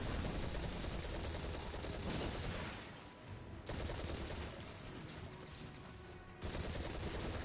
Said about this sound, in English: That's my machine gun from Trials